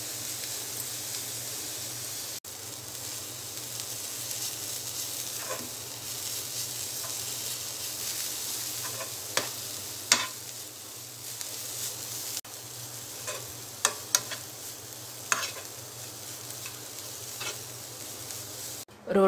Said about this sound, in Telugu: ఈ రెండు పచ్చివాసన పోయే వరకు ఫ్రై చేసుకోవాలి.